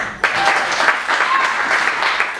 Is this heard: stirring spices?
no